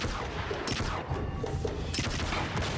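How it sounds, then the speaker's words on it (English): Bursts of video game gunfire from Awful Agents crackle over a steady background during a sniping section, with several sharp shots close together and no talking. "Just do a quick no-scope on this guy, get his gun."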